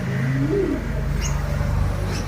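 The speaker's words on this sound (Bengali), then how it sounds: "এটা কামাগার কবুতর" Kamagar pigeons, a Pakistani breed, coo in low rolling notes at a market stall, with a steady murmur of other birds and a couple of faint higher chirps behind.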